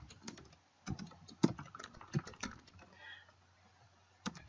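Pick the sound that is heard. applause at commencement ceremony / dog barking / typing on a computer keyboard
typing on a computer keyboard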